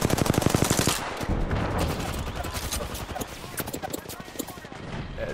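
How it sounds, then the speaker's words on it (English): Rapid gunfire in the shooter game Apex Legends, where a charge rifle is in use: a fast, regular run of loud shots at the start, then scattered bursts and impacts under a player's talk. "that's the charge rifle right there"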